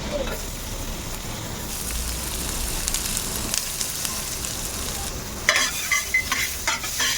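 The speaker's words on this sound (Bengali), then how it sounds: "তো রসুনটা আমার ভাজা হয়ে গেছে" Chopped garlic fries in melted butter with a continuous sizzle, and louder stirring clatters toward the end.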